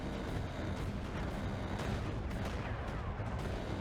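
A mortar fires in the mech combat game Mecha Knights, producing a steady, rapid rattle of overlapping blasts and thuds that keeps going without pause at a loud, even level.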